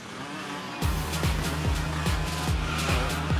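Cartoon go-karts racing in a LEGO Friends episode, a loud engine revving and whining with repeated rising pitch sweeps as karts rush past close by, a busy racing roar.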